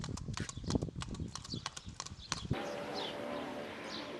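Quick, irregular hoof clops of a horse pulling a one-person racing carriage on hard ground in Malta, fairly close, fading into a steady outdoor hum with distant birds chirping.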